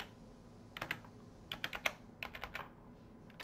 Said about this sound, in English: What is up with my typing today?